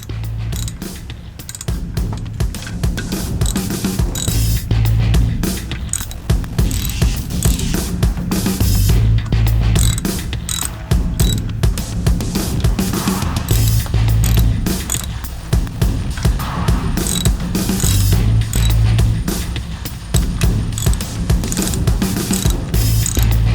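Ratchet wrench tightening bolts on an aluminum part of a Suzuki DF15 outboard motor, a loud, steady run of rapid pawl clicks in repeated bursts with brief pauses between strokes, close up with no talking.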